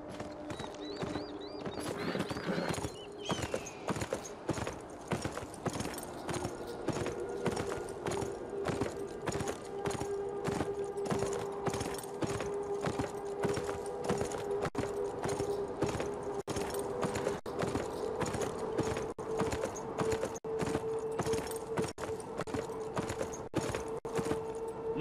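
Horse hooves clip-clop steadily and close throughout in the video game Beyond: Two Souls, with a sustained tonal music or ambience bed underneath and a brief whinny-like sound near the start.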